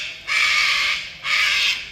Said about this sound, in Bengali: আর পিছনে এই পাখিগুলো কাকাতুয়া সবকটা।